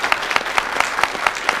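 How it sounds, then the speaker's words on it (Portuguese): An audience at a beach lifeguard safety talk gives a round of applause, loud close clapping with distinct individual claps standing out in a quick, uneven rhythm. "eu aplaudo e peço a salva de palmas para"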